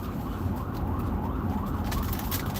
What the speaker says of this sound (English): There's an ambulance a block away.